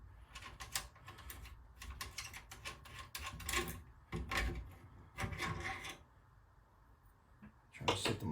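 Long screws being backed out of a Daytona USA upright arcade cabinet, giving a string of close, dry wooden clicks, rattles and scraping knocks in irregular bursts with brief quiet gaps.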